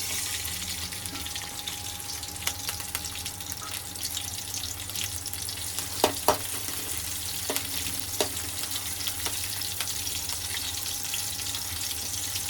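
Green chillies fry in oil spread evenly around a large kadai for wet cabbage manchurian, giving a steady hiss and crackle with a few sharper pops, close and even in level.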